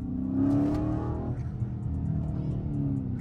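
A supercharged car engine revs steadily with a whirring supercharger whine, loud and close, with no talking.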